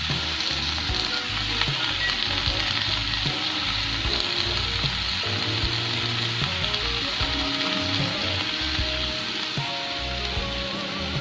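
Brown mushrooms frying in a pan, a steady close hissing sizzle with occasional stirring clatter throughout.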